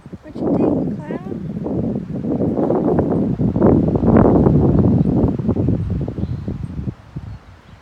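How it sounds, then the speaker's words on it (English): Wind blows strongly outdoors, buffeting the microphone with a loud, gusting low roar and rustling, and a voice can be heard under it. "It's windy, huh?"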